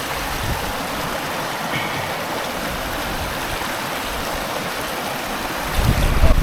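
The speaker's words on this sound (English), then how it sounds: "I'm just going to fill up some water here" Water streams and splashes steadily from a creek while bottles are topped up beside a bikepacking route in New South Wales, a constant broadband rush close by that swells louder near the end.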